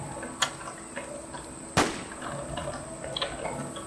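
Gunfire in the PvP shooter video game WarZ: a couple of sharp, isolated shot cracks, one small and one louder, over a faint buzzing insect-like ambience.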